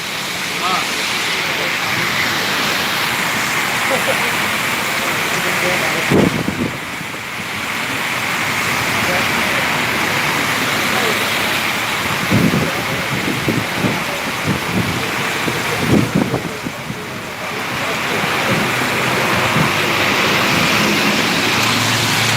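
Steady, heavy rain with thunder roars continuously nearby in Kuwait, with occasional deeper thuds and gusts breaking through the dense downpour.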